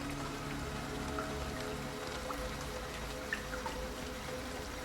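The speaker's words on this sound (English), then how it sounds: "Getting fucked by the rain." Rain falls in the horror game Lorelai as a steady close patter of drops on surfaces, with scattered individual drips over a low ambient hum and no talking.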